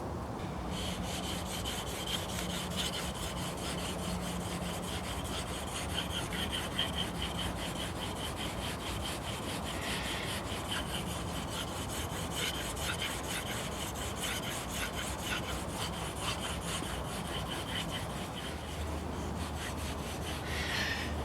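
A steel knife blade is drawn back and forth across a sharpening stone, a continuous rhythmic scraping and rasping that stays close and steady, with no talking.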